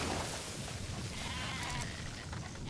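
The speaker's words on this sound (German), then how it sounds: "Was gibt es nochmal für Schafe, die wir ausfliegen?" Sheep bleating in the video game Metal Gear Solid V: The Phantom Pain, a steady, continuous layer of livestock sound filling the clip at moderate level with no talk.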